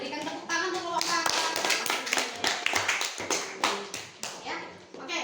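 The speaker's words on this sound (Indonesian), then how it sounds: "Berikan tepuk tangan untuk kelompok 4." Classmates applaud a student group in a classroom with brisk, uneven hand claps up close, mixed with children's voices talking over the clapping.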